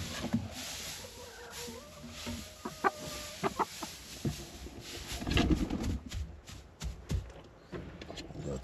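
Backyard chickens cluck and murmur on grass bedding, a loose run of soft calls and short squawks at close range, with a louder burst of activity midway and no talk.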